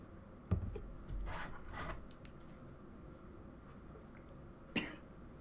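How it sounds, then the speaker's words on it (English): A person recovering from an illness coughs faintly, with one short cough near the start and another near the end of a quiet, otherwise still stretch. "Cough still sneaks up on me"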